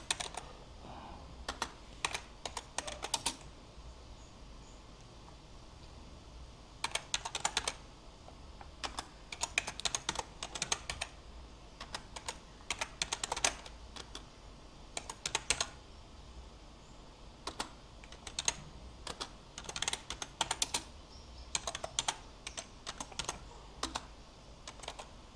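Someone types code on a computer keyboard, with quick bursts of clicking keystrokes separated by short pauses, steady and close over a quiet background with no talking.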